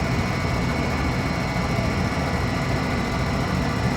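A finer diamond grinding wheel spins steadily at close range, a smooth continuous whir with no breaks or chatter and no talking.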